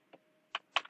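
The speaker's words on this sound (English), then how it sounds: "So now type in config" Keys tapped on a computer keyboard while entering a Cisco router configuration command, four quick close keystrokes with the last three bunched together.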